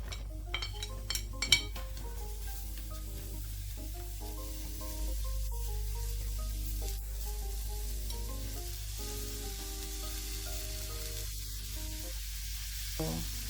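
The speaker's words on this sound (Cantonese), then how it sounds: "最好呢就係用白鑊嘅形式去煎香佢哋。" Shiitake and chicken leg mushrooms are dry-fried in a wok with no oil, giving a steady close sizzle with occasional stirring scrapes and clinks, under background music and with no talking.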